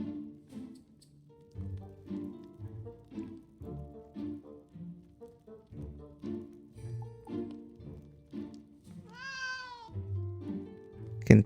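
A cat meows in the video game Suncraft while being petted, a short, bright rising meow standing out near the end over soft, rhythmic game music.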